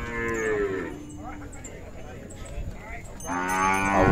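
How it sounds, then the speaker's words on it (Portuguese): Two young dairy calves bellow at a cattle fair in Ouricuri, Pernambuco, giving two loud, drawn-out moos at the start and end with quieter background clatter in between. "aqui nós temos duas bezerra e filha de vaca de leite"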